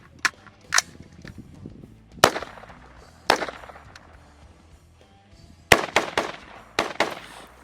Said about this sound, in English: I also have a Canik TP9 SF that I've been trying to cycle some rounds through